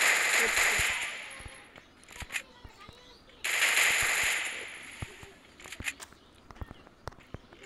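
Video game gunfire as an enemy is finished with a headshot: two long sustained bursts of automatic fire with scattered single shots and clicks between them, loud and close, alongside faint game sounds.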